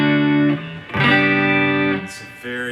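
Clean electric guitar through a Fender Hot Rod Deville amp, with three strummed chords that ring out close and fairly loud, one after another.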